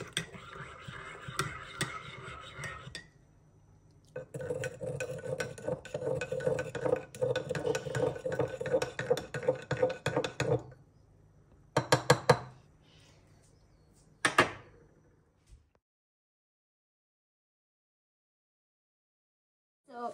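A drink being stirred in a cup, with dense, quick clinking and rattling of a spoon against the cup for several seconds, then a few sparse taps, then silence.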